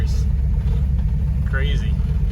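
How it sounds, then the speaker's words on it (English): A 1972 Camaro with a 383 stroker engine drives for the first time in nine years, its deep, steady low rumble filling the cabin while someone talks over it. "First time this thing's driven in 9 years."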